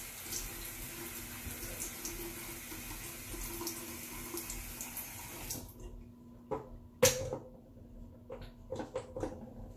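A bathroom tap runs water steadily into a sink for face washing, a soft continuous stream that cuts off partway through, followed by faint drips and small handling clicks.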